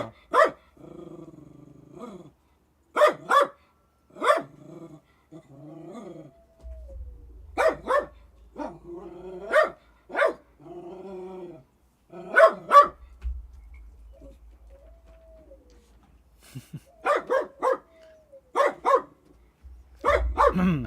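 A puppy barks repeatedly in short bursts and clusters of yips, with growly playful sounds between them, close and clear against a quiet room with a low hum in places.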